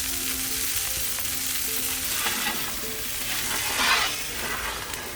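Burgers sizzle steadily in a hot pan set in a wood-fired oven, giving a continuous bright crackling hiss with a brief louder flare of spitting fat.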